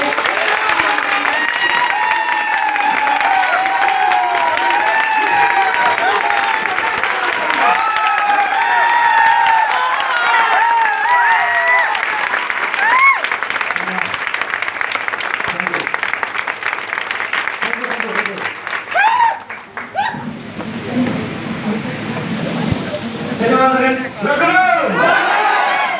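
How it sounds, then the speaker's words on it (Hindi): Loud, dense applause from an audience at a meeting, sustained for about twenty seconds and then thinning into scattered claps and cheers, with a voice briefly heard near the end. "एक बार जोरदार ताली होना चाहिए"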